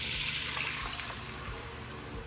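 Reserved pasta water from cooked linguine pours steadily into a pan of melted butter, a continuous splashing liquid stream with faint sizzle, fairly close and without talk.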